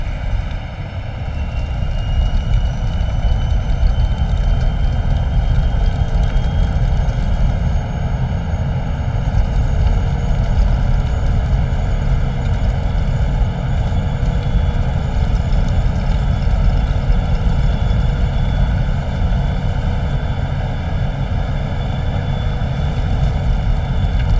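An Embraer Phenom jet taking off in a flight simulator game, its engines giving a loud, steady, droning roar with sustained whining tones that hold throughout.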